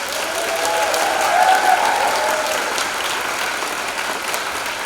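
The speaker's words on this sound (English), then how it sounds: "So please give them a round of applause." Sustained audience applause fills a launch event for Pink Dot 2017 with its ambassadors, a dense, even wash of many hands clapping at once, swelling slightly in the middle and holding steady without any voices.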